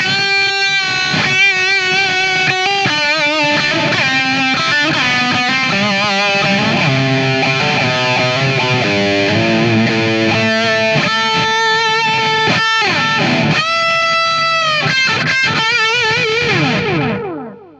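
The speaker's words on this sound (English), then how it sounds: "Now I'll stick some delay on." An electric guitar played through a Lindo Divine Delay pedal gives a distorted lead line, with notes repeating and trailing into echoes that ring out before fading to silence at the end.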